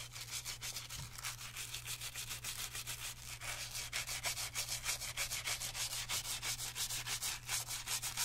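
A stiff bristle brush scrubs a white Gucci sneaker in quick, steady back-and-forth strokes, a close, dry rasping rhythm that continues evenly throughout over a low steady hum.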